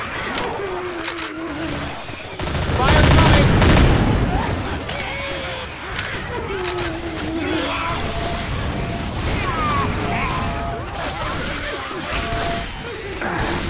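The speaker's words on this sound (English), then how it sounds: "Let's not all start shooting each other now" Gunfire from several survivors in Left 4 Dead during The Parish campaign, a heavy burst of shooting amid clattering mechanical game sounds, with voices talking over it.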